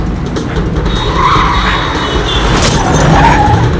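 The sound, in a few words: car tires skidding as the driver brakes in a movie chase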